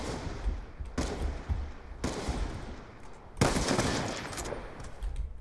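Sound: decoy grenade mimicking gunfire in Black Ops 2 video game

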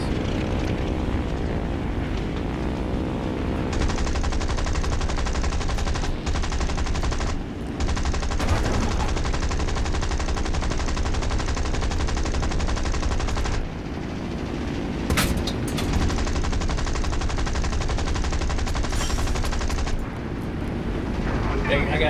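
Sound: machine gun fire from aircraft in War Thunder video game

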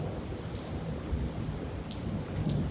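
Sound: heavy rain

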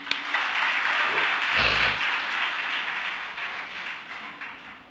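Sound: audience applause

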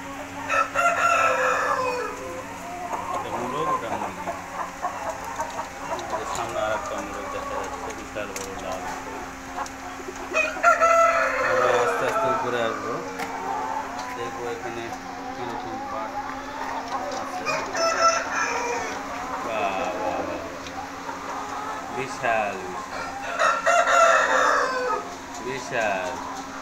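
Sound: roosters and hens at a broiler parent stock farm

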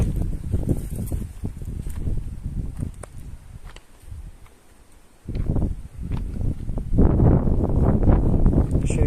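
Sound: wind

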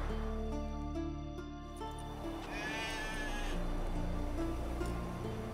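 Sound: sheep bleating in a video game (Witcher 3, Skellige)

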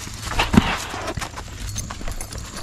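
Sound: mare's hooves clip-clopping while being ridden

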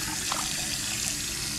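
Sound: tap water filling pot for cooking

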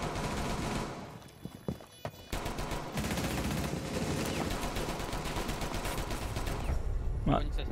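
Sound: gunshots fired into the air in a zombie video game

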